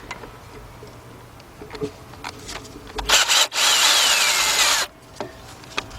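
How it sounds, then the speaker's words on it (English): Cordless impact gun working an intake manifold bolt on a 2004 Chevy Monte Carlo 3.4 V6, a loud sustained burst of about two seconds after brief short bursts, close by, with clinking before and after. "So what I'm going to use my cordless gun."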